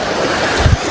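Sea surf rolling in along a Konkan shore in rain, a broad wash of water and wind noise with a couple of heavier low surges near the end, the current pulling hard.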